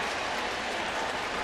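Baseball stadium crowd at a Cubs game in St. Louis, steady loud cheering and applause filling the ballpark throughout, broad and continuous with no talk.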